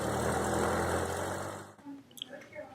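A light airplane's piston engine hums steadily and loudly as the plane taxis toward the end of the taxiway, then drops away abruptly partway through, leaving quieter scattered noises.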